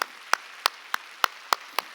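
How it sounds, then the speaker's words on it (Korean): A church congregation at a Wednesday worship service claps in a slow, sparse rhythm, seven crisp hand claps spaced evenly over about two seconds, with no voices. "하나님께 박수 칩시다."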